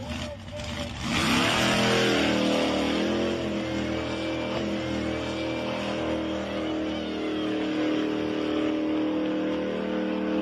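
A school bus fitted with an 8,750 horsepower engine runs loud and steady, a deep sustained engine roar holding at high revs throughout, with rising and falling tonal sweeps layered over it.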